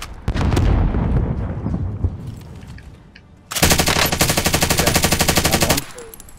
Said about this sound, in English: Launch rocket!